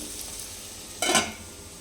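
Chana dal in a frying pan gets a quick stir, one short scrape of the spoon rising out of a quiet low sizzle that continues alone before and after.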